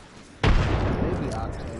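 In a shooter video game, a thrown frag grenade detonates in a single sudden, heavy boom. The blast comes after a quiet moment and is followed by a decaying rumble.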